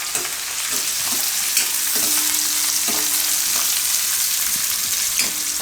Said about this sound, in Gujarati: તો થોડીક વાર આને પકાવી લેવું આપણે ગાજરને.